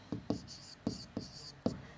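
Chalk or pen strokes on a board during a maths lesson, several short scratchy marks in quick bursts with pauses between, close and fairly quiet.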